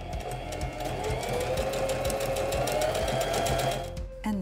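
A SINGER Denim sewing machine sews a decorative honeycomb stitch, a loud close rapid chatter of needle strokes running evenly for about four seconds before stopping abruptly.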